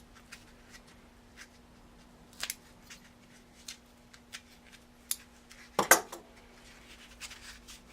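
Scissors snip through a square of children's toy foam being trimmed into a weight plug for a carbon fiber Speedbat shaft, giving a few sparse, quiet cuts with one louder, sharper snip near the end.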